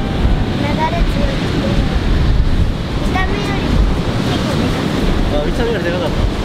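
Strong white-water surf at a beach with a powerful current: a loud, steady roar of breaking waves mixed with wind buffeting the microphone throughout.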